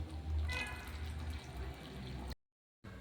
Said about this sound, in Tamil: இந்த மாதிரி இல்லாமல் இன்னும் கொஞ்சம் தண்ணி ஊற்றிக்கலாம்